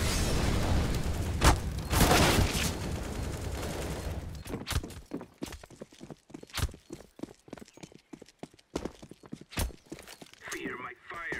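An incendiary grenade goes off in CS:GO on the Inferno map, opening with a dense burst of sharp bangs. A long run of irregular crackling pops and footstep-like thuds follows, and a voice speaks at times.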